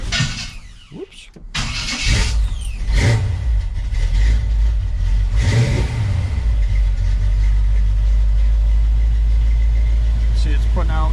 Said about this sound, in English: Man, this thing runs really good since it's been tuned up.